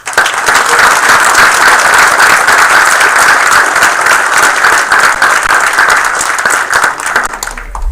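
A council meeting audience gives the Girl Scouts sustained, loud applause, dense and even throughout, tapering slightly at the end.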